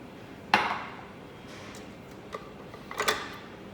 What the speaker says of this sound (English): Just scrape off any lumps off the mixing bowl.